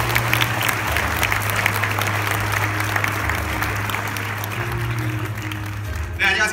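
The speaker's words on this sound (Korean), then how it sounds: "데니스동 교수님 큰 박수로 맞이해 주십시오" A full audience breaks into sustained, even applause welcoming Professor Dennis Hong, a UCLA mechanical engineering professor, at Software Edu Fest 2017, steady and close throughout over a low hum before a brief sharper noise at the end.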